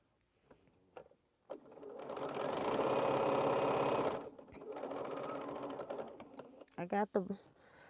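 Close up, a sewing machine stitches large quilt border pieces in a steady burst of motor hum and needle clatter, with short clicks and handling noises before and after.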